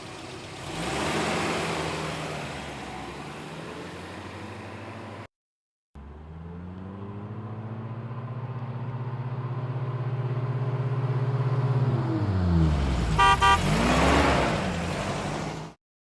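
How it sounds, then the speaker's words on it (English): A cartoon car, freshly assembled at a factory, starts up and drives off with a steady engine hum that swells and revs louder, broken by a short silent gap, then a rising whine before it cuts out. "The car is ready to go."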